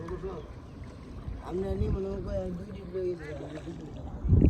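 A boat moving through floodwater near Netrokona, giving a low steady rumble with a soft water wash and wind. People talk over it throughout, and the noise swells near the end.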